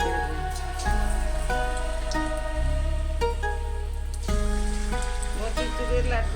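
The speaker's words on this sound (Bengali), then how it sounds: "হালকা একটু লাল করে ভাজতে হবে।" Oil fries steadily in a pan while motichoor ladoo batter cooks, giving a constant sizzling hiss under a rhythmic background beat, with a voice speaking over it.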